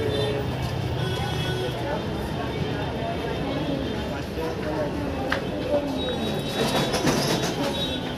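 Busy platform ambience at Howrah railway station: a loud, continuous wash of train rumble and rail noise with a crowd murmuring and talking throughout, plus occasional sharper metallic squeals and clanks.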